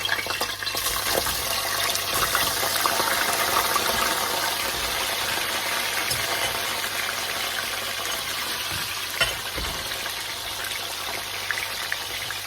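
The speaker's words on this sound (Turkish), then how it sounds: "Şimdi nuggetları içerisine boşaltıyorum." Ready-made chicken nuggets tipped into a pan of oil that has been heating for about two minutes, giving a dense, steady, loud sizzle and crackle that fills the whole stretch without any talking.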